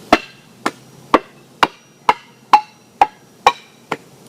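Nine sharp, evenly spaced hammer strikes break tiles for a mosaic, landing about every half second, each a hard crack on a brittle surface with a brief ringing decay, loud and close.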